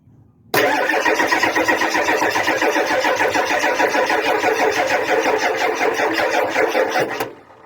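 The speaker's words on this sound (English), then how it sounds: "I'm gonna jog the motor here." A 1994 Ford F-250 engine cranks during a fuel system inspection, a loud, close, rhythmic churning that runs steadily for about six and a half seconds and then cuts off without the engine catching.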